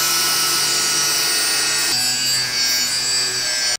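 Metal being cut for a DIY transmission skid plate, a steady, loud, continuous grinding-saw rasp lasting several seconds with a slight change in pitch midway, then stopping abruptly, with no talking.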